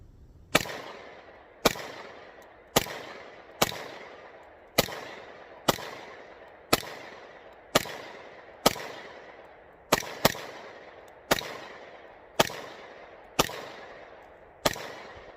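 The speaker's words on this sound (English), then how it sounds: "So let's shoot this and see how we do." A Smith & Wesson SD9VE pistol fires about fourteen sharp, evenly spaced shots at a steady pace outdoors, each crack followed by a short decaying echo.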